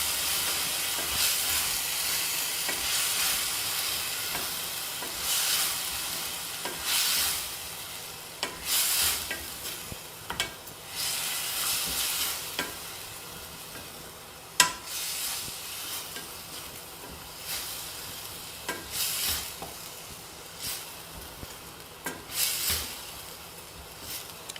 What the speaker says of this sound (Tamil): இதையும் பச்சை வாசனை போகிற வரைக்கும் வதக்கிக்கணும்.